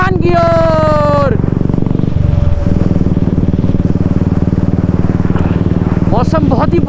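Motorcycle engine running steadily while riding on a road trip toward Rajasthan, a loud continuous drone with a brief throttle change midway, heard up close and alone apart from a short tonal sweep near the start.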